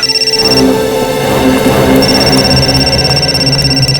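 A telephone rings steadily in a tense police operation scene, a continuous electronic tone with repeating bursts over background music, close and fairly loud throughout.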